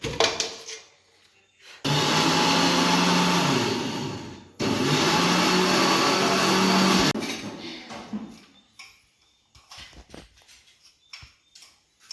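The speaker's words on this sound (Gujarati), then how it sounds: "મુઠિયાના ટુકડા મિક્સરમાં ગ્રાઇન્ડ કરવા." An electric mixer grinder grinding pieces of muthiya, fried gram-flour dumplings, in two loud, steady whirring bursts of a few seconds each, separated by a brief pause, with quieter kitchen sounds before and after.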